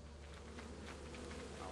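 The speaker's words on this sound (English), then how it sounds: "Alright, come here, bees." A swarm of bees in a video game drone with a steady, dense buzz that fills the whole moment at low level, continuous and without pauses.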